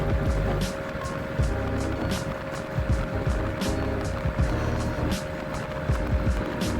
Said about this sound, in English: here comes the 140 hitting the RPM limiter